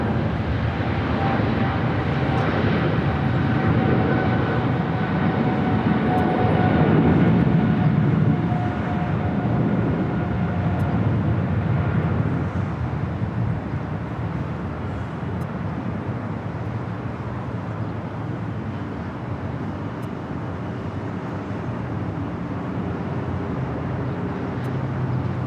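A China Southern Cargo Boeing 777 freighter rolls for takeoff on runway 25 right at LAX, a broad, steady jet engine roar that swells and then holds at a sustained level, with no talk over it.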